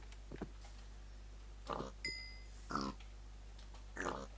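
Pigs in the Minecraft video game grunt and oink in a few short separate bursts over a quiet low hum, with a brief tone between them.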